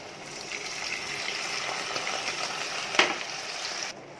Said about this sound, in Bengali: এখন আমি অ্যাড করে দেব জল।